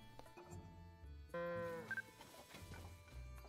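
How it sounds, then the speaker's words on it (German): A Hateno cow moos in the video game Zelda: Tears of the Kingdom, one clear drawn-out low moo rising out of soft game ambience, with a brief chime just after. "Eine Hateno-Kuh!"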